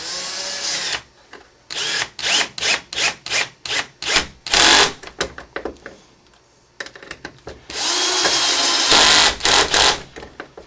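An electric screwdriver tightening screws while assembling an HPI Baja SS radio-controlled car, a series of short whirring bursts with pauses, then longer sustained runs, loud and close with no talking.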